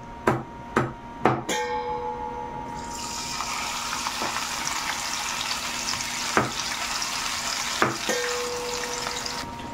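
Small dulong fish frying in a pan, a few sharp knocks and clatters at first, then a steady hiss of sizzling oil with occasional clicks, close and moderately quiet.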